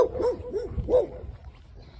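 Several sharp dog barks from a home in Jamaica, three or four quick yaps close by, fading into quieter background noise.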